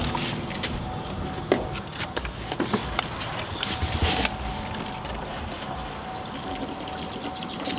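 Diesel exhaust fluid being poured into the filler of a 2021 Duramax Silverado 2500 pickup in a shop, a continuous gurgling liquid stream with a few louder splashes partway through.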